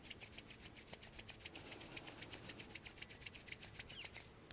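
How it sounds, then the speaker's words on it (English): Two palms rub briskly together in a quiet room, making a fast, even, rhythmic swishing that stays close and soft throughout, with no talking. "So when you feel the energy run out of your hands, just rub them again."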